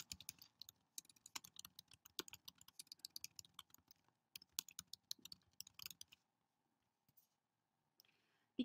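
Rapid bursts of typing on a computer keyboard, close and clear, with irregular clusters of key clicks that thin out to a few isolated taps near the end.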